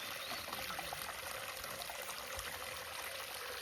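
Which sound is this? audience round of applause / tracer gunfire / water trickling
water trickling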